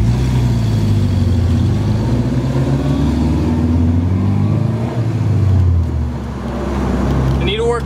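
A Porsche drives at a cruise, its engine droning low and steady with gentle rises in revs under road noise, close and fairly loud, with a brief dip near the end.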